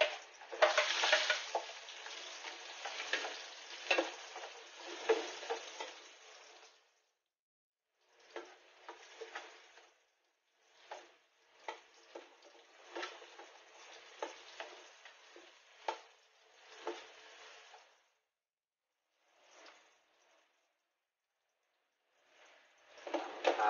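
Onion sizzles and crackles in a hot pan while being stirred for chicken tinola. The frying comes close and steady at first, then breaks into shorter bursts separated by quiet pauses.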